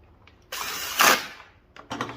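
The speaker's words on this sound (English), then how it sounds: "I'm using an impact drill." A loud mechanical burst of whirring and rattling from an impact drill driving a fastener on a Stihl BG 55 blower, rising to a peak then cutting off, with a short second burst after.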